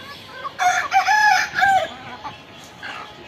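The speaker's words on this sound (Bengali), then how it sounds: "অলরেডি আপনারা শুনেছেন আমার মোরকের ডাক" A rooster of a local desi breed crows loudly and close on a small backyard chicken farm, one long drawn-out call followed by softer clucks and fowl sounds.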